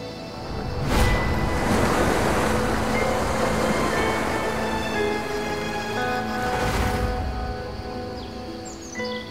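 Sea water near a lighthouse washes in broad surges, two swelling rushes of surf rising and fading over a steady background, with no one speaking.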